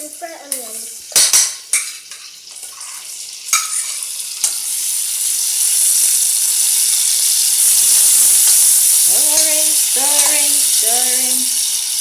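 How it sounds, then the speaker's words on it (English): Steady loud sizzling of onion stir-frying in a hot pan, with metal utensil clanks and scraping as it is stirred, and a voice briefly talking. "So stir fry that a bit. Yeah. Onion, fry onion."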